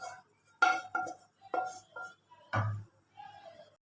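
A utensil stirs chicken and pasta into a white sauce in a pan, giving a handful of separate clinks and scrapes with short quiet gaps between them.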